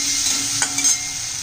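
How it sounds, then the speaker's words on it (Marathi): Potatoes frying with masala in a pan, a steady close hiss of sizzling oil with a couple of soft stirring scrapes, brief and continuous. "परतून घेऊया मसाला आणि मग बटाटे घालून घेऊया बटाटे चांगले परतून घेऊया आपण"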